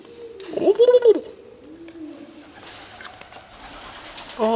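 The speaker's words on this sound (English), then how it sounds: "there's freaky ghost birds in here" Pigeons coo inside the theater of an old Montana prison, a pair of low throaty calls near the start and softer cooing after, with people talking quietly in the echoing space.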